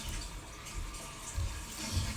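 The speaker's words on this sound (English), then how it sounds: "so I had to flush the toilet." A toilet flushes in a short burst of rushing, gurgling water, steady and fairly close, with no voices.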